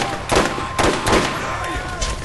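Enemy gunfire in Borderlands pops out in a few separate, fairly loud shots spaced irregularly over a steady in-game background hum.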